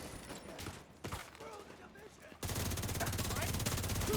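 Enemy gunfire in The Division 2 erupts into a dense, continuous burst of rapid shots after a quieter stretch with a voice talking, staying loud and close to the end.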